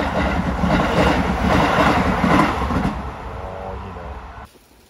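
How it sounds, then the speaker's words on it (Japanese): A Keisei Chiba Line train rolls past a level crossing with a steady, loud rumble and wheel clatter. A crossing signal tone persists high above it before the passing noise drops away near the end. "京成千葉線の列車が来るということなんで"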